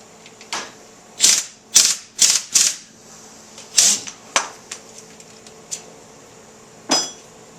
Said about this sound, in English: Put your 19 mil wrench on, and tighten the cap up.